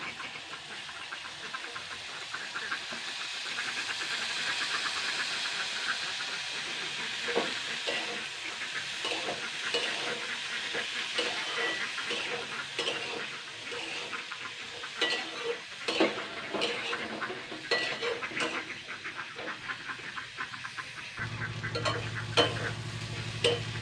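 Chopped water spinach stems fry and get stirred in a pan for Bengali kolmi shak bhaja, a steady close sizzle broken by frequent scraping stirs, with no talk.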